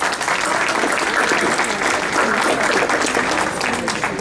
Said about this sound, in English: they can stand up and we will give a big applause to them